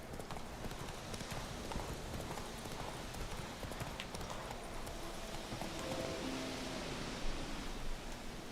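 Roach, the horse in The Witcher 3: Wild Hunt, gallops with a steady clip-clop of hooves over an outdoor ambient bed, moderately loud and continuous throughout.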